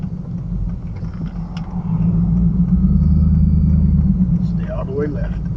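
A V8 car engine rumbles steadily from inside the cabin during a driving test, the low drone swelling louder partway through as the car pulls ahead.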